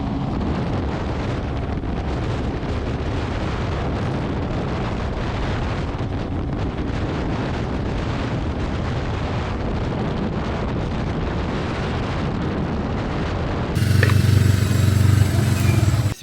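A motorcycle engine roars continuously at the close of a motorcycle season ride in Pereiaslav, loud and dense under heavy wind buffeting, rising into a louder surge near the end.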